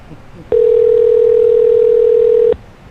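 A single steady telephone tone sounds while a call is being placed, loud and unbroken for about two seconds before cutting off abruptly, with no talking.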